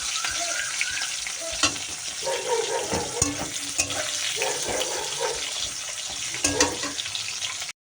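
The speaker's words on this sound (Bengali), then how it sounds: "উচ্ছেটা আমি সুন্দর করে কড়া করে ভেজে নেবো" Bitter gourd slices fry in hot oil with a steady crackling sizzle, broken by occasional clanks and scrapes of a spatula stirring the pan, close by with no talk.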